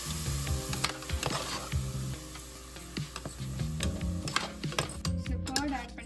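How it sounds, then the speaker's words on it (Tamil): Onions and thick curd stirred and sautéed in a pan for Chennai-style mutton biryani, giving a continuous sizzle broken by irregular scraping and clinking of the spoon against the pan. "நீங்கள் மிக்ஸ் பண்ணி நல்லா வதக்கணும்"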